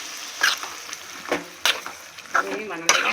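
Chicken kuzhambu ingredients such as tomato, pepper, cumin and fennel sauté in a pan, giving a soft sizzle broken by intermittent scraping stirs, with a voice speaking over it.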